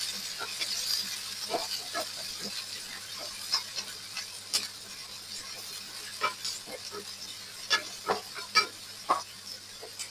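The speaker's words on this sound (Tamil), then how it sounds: "இந்த வெங்காயம் வெள்ளப்பொடு பச்சை மிளகாய் எல்லாம் எண்ணெயில வதங்கணும் நல்லபடியா நல்லா கிளறி வதங்க விட்டுக் கொள்ளுவான்" Onion, garlic and green chilli sautéing in hot oil for curry rotti, a faint steady sizzle broken by scattered clicks and scrapes of a spoon stirring the pan.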